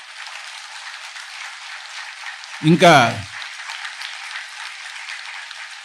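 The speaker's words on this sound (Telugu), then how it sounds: "ఒకసారి గట్టిగా చప్పట్లు కొడదాం ధ్యానానికి." A crowd claps loudly together after a group meditation session at a spiritual gathering. The applause is a continuous, even roar of hands throughout, and a voice cuts in briefly in the middle.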